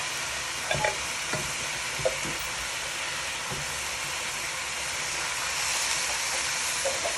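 Trinidad pelau with gungo peas sizzles in a pot while a spoon stirs it, a steady frying hiss with soft scraping knocks near the start, close and alone.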